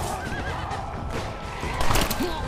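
Horse neighing in the video game Red Dead Redemption: Undead Nightmare, a clear whinny rising over game ambience with hoof clip-clops and faint background voices.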